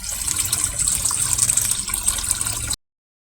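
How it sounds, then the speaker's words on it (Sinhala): Water pours into a container being filled to stock a pond, a steady close gushing splash with small fluctuations, cutting off abruptly before the end. "මේකට වතුර ටික පුරව ගමු"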